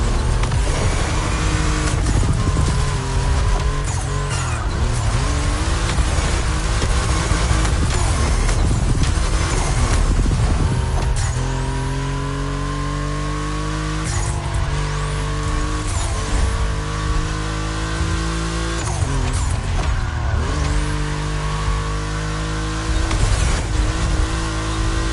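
Volkswagen race cars lapping a track in The Crew Motorfest, loud continuous engine drone with revving and gear-shift pitch sweeps, occasional tire squeal, steady and close throughout.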